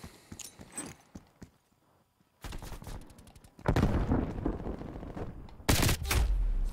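Bursts of automatic gunfire in Call of Duty Black Ops Cold War, a short volley early, then loud sustained rapid fire from about 3.6 s, with a final heavy burst near the end.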